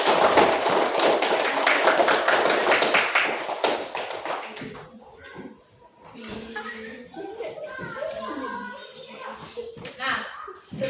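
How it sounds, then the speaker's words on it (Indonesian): Students in a classroom give another group a round of applause, a dense burst of clapping over about four seconds, then children's voices talk and chatter while scattered taps continue. "kita kasih aplaus untuk kelompok yang lain"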